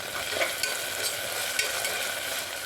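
Onion with ginger garlic paste sautéing in a pan for paneer peas pulao, giving a steady close sizzle and frying crackle with faint stirring scrapes, continuous throughout with no talking.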